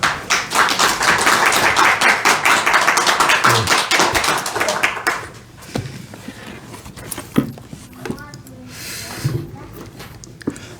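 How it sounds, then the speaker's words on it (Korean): Congregation clapping together at a Sunday afternoon church service, dense and steady for about five seconds before quickly thinning into scattered claps and quiet shuffling. "박수 한번 하겠습니다."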